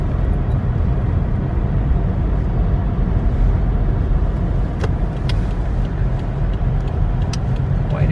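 Car pulling into a Target parking lot on a cold day, with a steady, close road rumble and tyre noise throughout and a few faint clicks.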